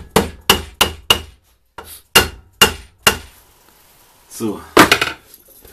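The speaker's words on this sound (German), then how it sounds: "Möge beachten, dass das ein Schonhammer war, der die Kanten nicht kaputt macht" A soft-faced hammer taps the two engine case halves of a Simson S51 together in a series of sharp, loud, close knocks, first in a quick run of four, then three more with gaps, and a final cluster. A voice speaks briefly.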